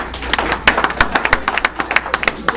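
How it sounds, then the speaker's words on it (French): Audience at a French association handover ceremony applauding loudly, with sharp irregular claps from nearby hands over a dense clapping bed, close and sustained. "je voudrais qu'on l'applaudisse très fort."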